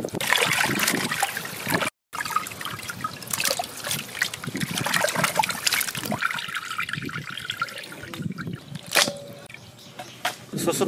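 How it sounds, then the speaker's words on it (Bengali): Tap water runs and splashes while meat is washed by hand, making a continuous close trickle with bursts of splashing, a brief cut near the start, then a softer, thinner flow toward the end. "মাংসটাকে ভালো করে ধুয়ে নেব আমরা"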